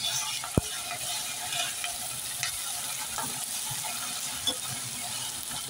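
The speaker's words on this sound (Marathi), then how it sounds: "आता आपण घालूया मिरची, त्यासोबत घालूया आपण कढीपत्ता। आता हे परतवून घेऊया।" Green chillies and curry leaves stir-frying in a pan for ivy gourd bhaji, a soft steady sizzle with a few faint clicks of a spatula against the pan, close and fairly quiet, with no talk.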